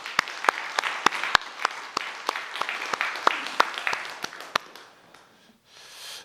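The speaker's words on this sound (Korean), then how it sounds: "우리 한 번 더 하나님께 영광의 박수하겠습니다" A church congregation at a Sunday worship service claps together in a brisk, even rhythm of sharp claps for several seconds, then the clapping stops and a quieter room murmur follows.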